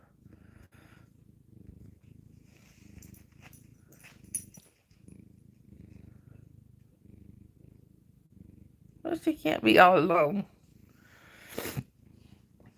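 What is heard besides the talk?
cats purring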